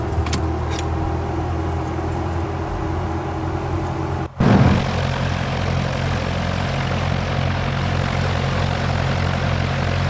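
A propeller airplane engine in a flight simulator game drones steadily and loudly throughout. It cuts out for a split second midway, then resumes at the same even hum, with no talk.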